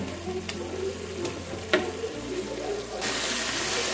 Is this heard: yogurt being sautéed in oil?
yes